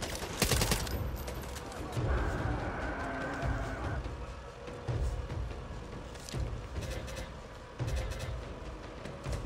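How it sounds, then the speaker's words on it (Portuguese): A minigun in a video game fires in long, dense bursts over a rough, noisy mix, with shorter breaks between volleys and excited players talking over the gunfire. "Minigun!"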